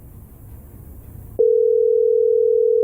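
A telephone line tone comes in abruptly after a stretch of quiet room noise and holds as a loud, steady single-pitch hum to the end, with no voices over it.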